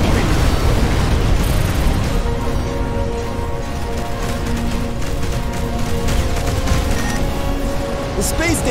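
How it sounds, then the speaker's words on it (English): A space station blows up in the sci-fi video game Between the Stars: a dense, continuous roar of rumbling explosions and crackling bursts fills the scene at high volume for the whole stretch, with a voice mixed in. "The space station has been destroyed."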